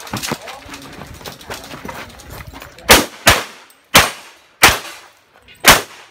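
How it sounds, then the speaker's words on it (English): Shots ring out at a shooting range during a Christmas shoot. Five sharp, loud gunshots come in an irregular series over the last few seconds, each followed by a short ringing decay, after a stretch of quieter clatter and background activity. "Load and shoot."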